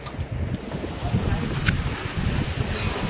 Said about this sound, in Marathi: जोराचा वारा सुटलाय पाऊस पडतोय